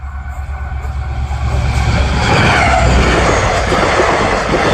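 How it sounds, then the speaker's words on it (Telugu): A diesel train in Assam rumbles past nearby, a loud, steady low roar of engine and wheels that swells as it passes. "అస్సాంలో రైలు వచ్చేసింది, డీజిల్ రైలు అనుకుంటా ఇది."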